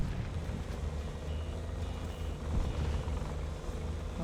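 Helicopter in War Thunder flying steadily nearby, a continuous low rotor and engine drone with no other sounds over it.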